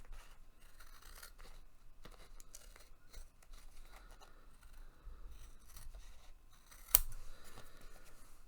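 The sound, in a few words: scissors trimming a sliver of washi tape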